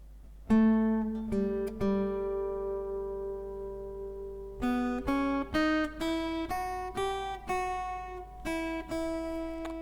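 An acoustic guitar is fingerpicked slowly note by note through a song, each tone ringing out before the next, with a long sustained note early on.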